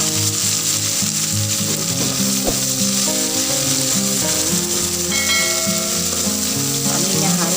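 Shallots with red and green chilies fry in a pan, sizzling loudly and steadily with occasional stirring scrapes, while background music plays underneath.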